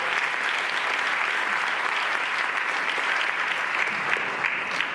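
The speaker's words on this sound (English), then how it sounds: "give these two young ladies again another round of applause" Steady, dense applause from an audience for two young ladies at a State of the District address, continuous and even throughout with no pause.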